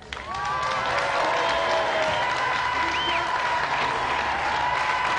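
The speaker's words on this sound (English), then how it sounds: "Round of applause for them anyway." Studio audience applause on a TV video game show, a dense sustained wash of clapping with some cheering that swells quickly and holds steady and loud, with faint tonal game music running underneath.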